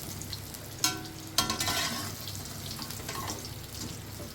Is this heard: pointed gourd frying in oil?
yes